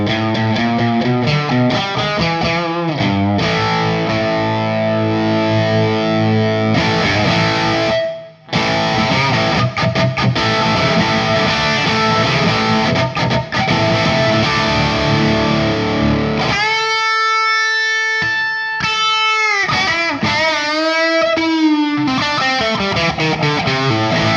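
Semi-hollow electric guitar with P90 pickups played through distorted gain, loud chugging rock chords that give way to bent, wavering lead notes near the end.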